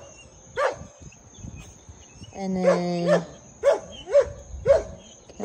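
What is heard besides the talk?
dog barking in backyard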